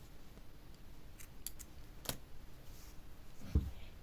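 Scissors snip through crochet yarn at the end of a skirt piece: one faint, quick cut midway and a soft click near the end, over quiet room hiss.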